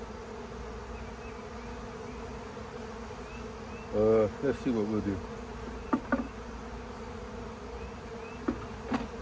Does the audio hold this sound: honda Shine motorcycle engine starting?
no